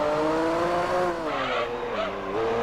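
A McLaren race car in Gran Turismo 4 Prologue screams at high revs with rising and falling engine tones and a brief tire squeal as it takes a corner, loud and steady throughout with no voice.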